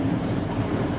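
A pair of class 158 diesel trains passing at Nottingham station, giving a dense, steady rumble and rolling roar close by for the whole second.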